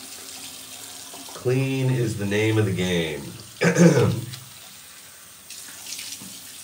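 Tap water runs steadily into a bathroom sink before shaving, a continuous hiss of flow throughout, while someone speaks briefly and clears his throat over it.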